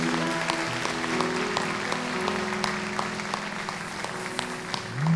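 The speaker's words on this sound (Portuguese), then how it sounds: "Vamos aplaudir ao Senhor Jesus mais uma vez" Congregation in a church applauding, a steady dense wash of many hands clapping that fills the whole stretch at moderate loudness, with no talking over it.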